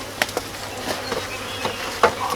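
Honeybees from a newly installed package buzzing near a hive, a low steady drone broken by a few sharp knocks of frames and wood.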